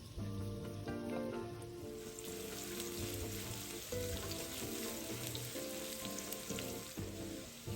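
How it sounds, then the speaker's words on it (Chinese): Shallot slices, about 70 grams, fry in oil in a wok over medium heat, giving a steady dense sizzle that continues without pause, close and loud, with no talking. "倒入红葱片70克，中火爆香。"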